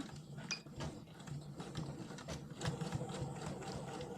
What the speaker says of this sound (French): je vais faire une petite piqûre tout le long